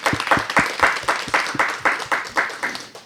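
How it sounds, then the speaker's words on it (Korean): Audience at the 2022 Asia Music Network Forum in Korea claps in a steady, rhythmic pulse, loud and close, each beat a dense burst of many hands with no voices over it. "통역분들한테 좀 박수 좀 주시죠."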